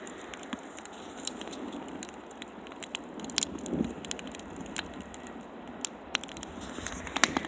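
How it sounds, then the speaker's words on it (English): Outdoor fire pit burning near the end of the day, sparse sharp crackles and pops scattered over a faint soft hiss, quiet and close with no talking. "we'll sit here and watch the fire and listen to the crackle"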